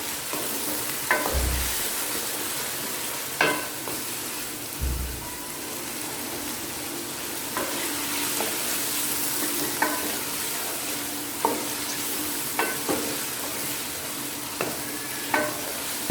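Chicken pieces fry and sizzle in a pan with browned garlic and ginger for a haleem, a steady close hiss broken by occasional scraping stirs.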